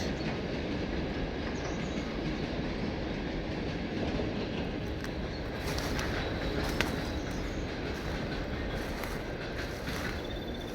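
A train passes near a cemetery, a steady broadband rumble of rolling wagons lasting throughout, with faint rail clatter and high squeal toward the end, loud and continuous without talk.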